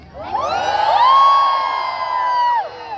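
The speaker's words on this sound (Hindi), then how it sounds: "एक बार पीछे से चिल्ला दो प्लीज।" A large event crowd in Jamnagar, India, shouts and cheers in one sustained, loud swell of voices from the back of the venue, rising quickly, holding steady for about two seconds, then cutting off.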